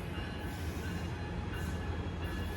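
An Amtrak Pacific Surfliner passenger train pulls out of the San Juan Capistrano station heading south, giving a steady, close, low rumble of rolling cars with a faint metallic hiss above it and no voices.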